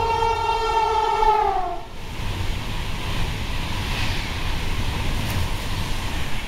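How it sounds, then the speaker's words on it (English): A non-stopping train roars steadily through Nuneaton station at high speed, a loud continuous rush with a high horn-like tone fading out in the first two seconds. "the next train approaching at high speed."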